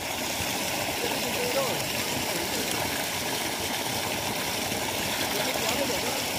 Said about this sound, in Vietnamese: Nước vào ao thế này thì khác gì suối được